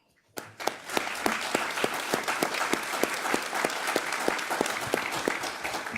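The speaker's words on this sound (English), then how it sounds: "I would respectfully request to my council president if we can recognize them with a round of applause." Applause from attendees at a city council meeting honoring visiting players and coaches, starting abruptly after a brief quiet moment, then sustained, dense clapping with sharp individual claps standing out over the crowd.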